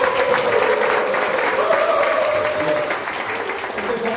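Applause fills a hall at a graduation and appointment ceremony for unification mission trainees, a dense sustained clapping from the audience that stays steady and fairly loud throughout.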